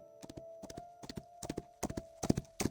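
In a video game forest scene, horses' hooves clip-clop in uneven clusters of sharp knocks, growing louder and busier toward the end over a faint sustained tone.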